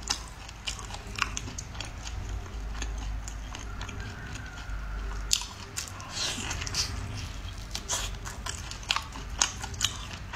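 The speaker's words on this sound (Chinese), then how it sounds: "我特别喜欢吃这个猫眼螺，这个头部有的人说比较难咬，" Someone bites and chews cat's eye snail, with soft crunching, squishy mouth sounds and occasional sharp clicks, close and quiet, in an irregular rhythm with no talking.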